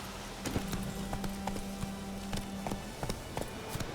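Steady clip-clop of horse hooves walking at an even pace in the video game The Witcher 3: Wild Hunt, with a low electronic hum beneath.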